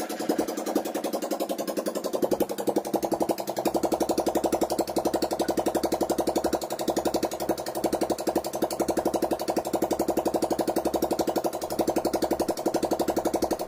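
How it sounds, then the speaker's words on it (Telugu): A rebuilt ZMR motorcycle engine idles close by after a brief starting burst, settling into a steady, loud, rapid beat that continues evenly to the end with no voices. "ఒకవే ఇంజిన్ బీటింగ్ అన్నారు కదా"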